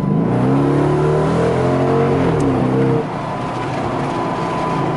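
Dodge Magnum R/T station wagon with a Hemi V8 accelerating hard, a loud, steady engine roar rising in pitch through the gears, then easing off to a lower drone near the end, with no talk.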